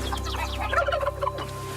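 Turkey gobbling on a farm in Crete, a quick burst of warbling gobbles standing out clearly over a steady low farmyard hum.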